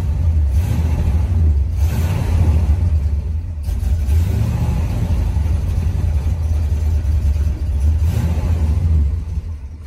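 A 1971 Ford LTD convertible's engine runs steadily with a finicky carburetor, a loud low rumble that swells and dips slightly as if lightly revved, close and alone without voices.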